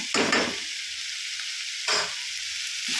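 Fried potatoes are tipped into vegetable fried rice in a hot pan, giving two brief loud bursts of scraping and sizzling stirs over a soft steady sizzle.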